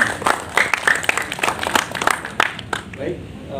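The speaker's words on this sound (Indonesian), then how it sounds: "Sekali lagi kita beri tepuk tangan pada Bapak Dr." Applause breaks out at the closing ceremony of an Indonesian teacher training event, a dense patter of clapping from an audience that fills the whole moment while a voice speaks over it.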